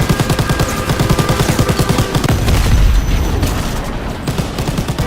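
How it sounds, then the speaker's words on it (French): Rapid machine-gun bursts in a WWII train-combat video game, dense repeated shots mixed with booming impacts and explosions, loud and close throughout, no talking. "Mitrailleuse!"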